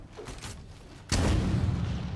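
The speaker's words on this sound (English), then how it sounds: "The explosions are the infinite particle effects." Rocket launcher explosions in a modded Halo 3 game, with Halo Infinite particle effects: a quieter rumble, then a loud boom at about one second that holds as a dense, sustained roar.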